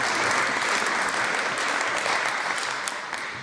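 MSPs clapping in the Scottish Parliament chamber after an answer from the First Minister. A loud, dense, sustained round of applause, steady throughout with no voices rising above it.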